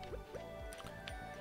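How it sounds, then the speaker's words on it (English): Crops being watered in the video game Stardew Valley, a few quick soft splashing squishes in steady succession, faint over game music. "We gotta water all of this again."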